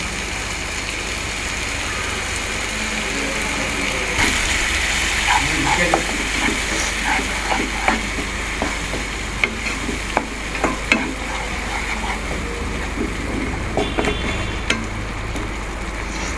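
A spoon scrapes and stirs a thick, spicy mushroom pepper masala gravy in a frying pan, with a steady sizzle underneath and occasional sharp clinks.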